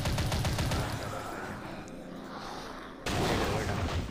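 Bomb blasts in the shooter game Dead Target Rampage: a quick volley of sharp bursts, then a steady low rumble, ending in a sudden loud explosion that stays heavy and noisy to the end.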